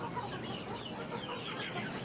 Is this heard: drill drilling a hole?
no